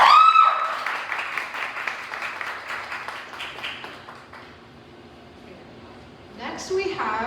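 At a college poetry night, a crowd claps for a featured performer in a dense burst that thins and fades over several seconds, followed by near quiet and a brief sound at the end.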